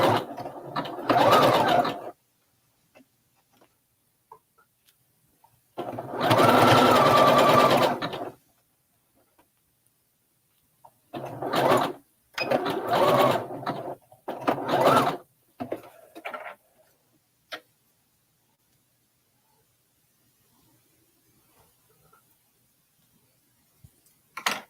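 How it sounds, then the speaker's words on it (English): A sewing machine stitching the right sides of two front fabric pieces together runs in several separate bursts, the longest about two seconds, with quiet pauses between and a faint voice now and then. "I'm gonna sew the right sides together."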